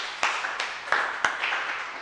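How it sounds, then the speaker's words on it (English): At the close of a Startup Grind session, faint, scattered hand claps from a small audience come in a few separate bursts. "A big round of applause to yourself and Mr. Salum."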